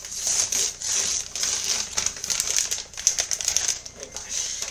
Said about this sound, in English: I'm going to remove the plastic of it.